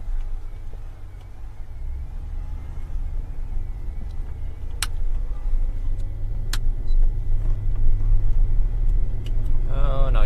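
A high-profile vehicle turns around on the road during storm chasing, a steady low engine and road rumble inside the cabin that swells slightly toward the end, with a few sharp clicks.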